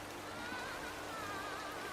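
Steady in-game rainfall in Disney Dreamlight Valley, a soft, continuous patter and hiss with a faint tone running beneath it and no voices.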